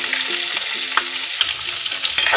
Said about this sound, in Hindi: अनियन को हम 2 to 3 मिनट्स के लिए सौटे कर लेंगे।